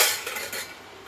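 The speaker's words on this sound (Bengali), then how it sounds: "বাবা ভাতটা হলো, এবার দাদার ভাতটা বেড়ে নেবো" A metal spoon scrapes and clinks against a plate while cooked rice is served, a few brief close taps and scrapes with no talking.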